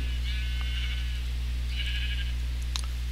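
Two drawn-out sheep bleats from the video game Minecraft, heard alone at moderate level over a steady low hum, with a faint click near the end.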